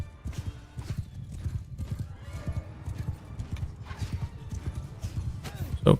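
Cavalry horses in Mount & Blade II: Bannerlord gallop in a steady, rhythmic clatter of hooves with a whinny mixed in, close and busy throughout a battle.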